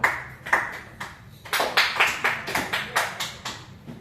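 Classroom applause in a school for disabled students, a group clapping in irregular bursts that settle into a steady rhythmic clap, fairly close and clear.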